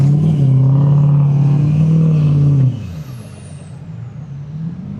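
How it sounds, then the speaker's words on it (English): A mid-size pickup truck's engine revs hard and loud for close to three seconds while the truck accelerates in sand, then falls back to a lower, rougher rumble. "Start giving it some gas."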